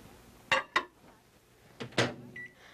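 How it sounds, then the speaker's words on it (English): A microwave oven is handled for cooking: two sharp clunks like its door or buttons, a short pause, then two more knocks and a brief electronic beep, fairly close in a quiet kitchen. "now that's going to cook in the microwave in about 4 minutes"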